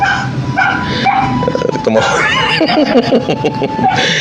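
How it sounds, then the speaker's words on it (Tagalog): A pet dog at home barks and whimpers in short yips and whines, fairly close and loud, mixed in with background voices. "Yung aso sa bahay ko."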